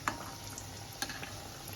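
Chicken kebabs frying in hot oil, a steady low sizzle running throughout with a few soft clicks and stirring knocks.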